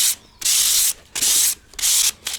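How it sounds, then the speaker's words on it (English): Hand sanding a painted timber balustrade during prep work: three long, loud abrasive strokes with short pauses between, then the start of a fourth, close up with no talk. "To give it a light sand down."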